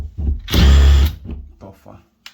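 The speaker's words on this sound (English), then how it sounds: "if you have a drilling bit, this is not a better drilling bit for this" A power drill driving into a door hinge during a cheap hinge repair, one loud burst of whirring lasting about half a second, with a person talking briefly before and after it.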